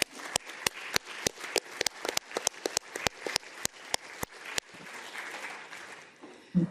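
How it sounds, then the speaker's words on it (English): Formal assembly applauding a Sakharov Prize laureate. The claps come as sharp, separate slaps, loud and close, fading into a softer spread of clapping before a brief sound at the end. "we also want to give an applaud, warm applaud to Ms. María Corina Machado, who is already"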